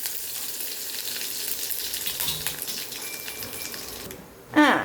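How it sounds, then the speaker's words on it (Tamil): Mustard seeds and urad dal sizzle and crackle in hot oil for tempering, a steady close frying hiss, then a sudden loud sizzling burst as curry leaves drop into the pan. "கடுகு பொரிஞ்சு நின்ன உடனே இந்த பாருங்கள் கருவேப்பிலை போடுறேன் பாருங்கள்."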